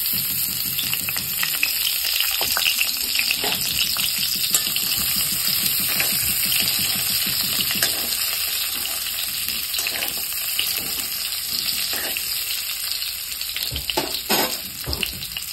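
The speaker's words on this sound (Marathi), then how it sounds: "तर तेल गरम झाल्यानंतर ही बटाटे मी ह्याच्यामध्ये सोडून घेणार आहे।" Potatoes fry in hot oil in a pan, giving off a loud, steady sizzle with crackling bubbles. The frying continues without a break and there is no talking.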